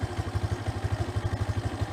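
A Suzuki Skydrive motorcycle engine idling, a low, even putter of rapid regular pulses close by, with a light mechanical clatter on top and no talk.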